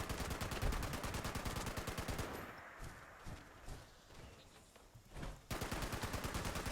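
A Quad Explosive .50 cal machine gun in the video game Fallout 76 fires in rapid, loud sustained bursts, pauses briefly amid scattered impacts, then opens up again in another fast burst.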